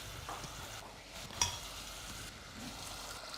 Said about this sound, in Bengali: এখন আমরা একটু পানি ঢেলে দিই